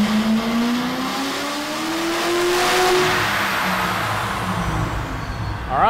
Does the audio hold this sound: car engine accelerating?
yes